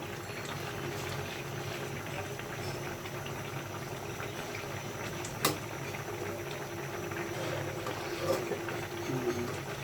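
A pot of jackfruit seeds and data greens boils steadily, a continuous bubbling roil with a constant low rumble and no voices.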